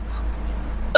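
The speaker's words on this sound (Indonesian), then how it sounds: "Cegukan." A single short hiccup lands at the very end, loud and close, after a stretch of quiet low background hum.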